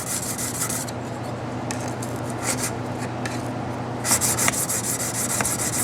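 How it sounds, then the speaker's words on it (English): A knife blade rubs steadily back and forth on a 1200 grit sharpening stone, removing the burr from the edge of a kiridashi friction folder. The rasping strokes repeat close up, alone with no talk. "The edge is still very hard, so the burr is easily removed on the 1200 stone."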